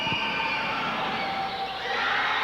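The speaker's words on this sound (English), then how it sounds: "What a noisy crowd here tonight." Steady roar of a noisy crowd at a high school basketball tournament game in a gym, constant and dense with shouts blending together and no clear voice on top.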